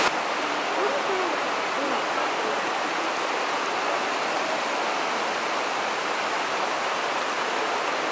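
Water rushes and churns beneath a metal grate inside Stopica Cave in Serbia, a steady, dense hiss of flowing water with no break.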